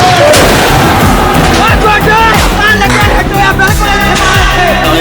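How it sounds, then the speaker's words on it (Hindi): Explosion amid the chaos near a damaged runway, heavy booming blasts layered with agitated crowd voices and shouting, all very loud and dense from start to finish. "अभी भी धमाका हो गया"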